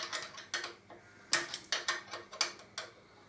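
A spanner works on the rear nuts of a Harley-Davidson Deuce motorcycle with slightly damaged threads, making a close series of light metallic clicks and ratcheting ticks in an uneven rhythm, with no talking.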